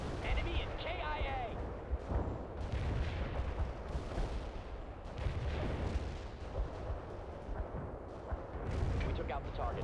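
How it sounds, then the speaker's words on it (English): Missile launches and explosions in the PC strategy game World in Conflict rumble as dense, low battlefield booms and blasts, layered under radio-style voices and continuing almost without pause. "Fire that missile."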